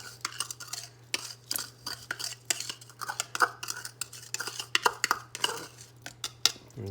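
A utensil scrapes and clinks against a container while a homemade carpet cleaning defoamer is scooped out, a run of close, sharp, irregular scrapes and taps over a steady low hum.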